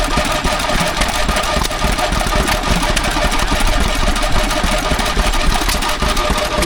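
A side valve stationary engine runs at a country show, a loud, steady mechanical chugging with a busy rhythmic clatter throughout.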